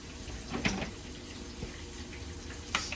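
Hands being washed under a running kitchen sink tap, a soft steady stream of water with a few brief splashes and clinks, quiet and close.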